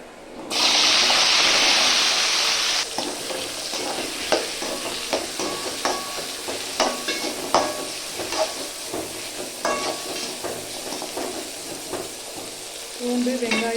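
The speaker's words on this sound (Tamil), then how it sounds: "பூண்டு வெங்காயம் தக்காளி சோம்பு இதெல்லாம் வணக்கிக்கலாம்" Garlic, onion, tomato and fennel seeds sizzle and fry in a pan for fish curry, starting with a loud hiss and settling into steady crackling with repeated stirring scrapes.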